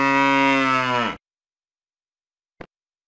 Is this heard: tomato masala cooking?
no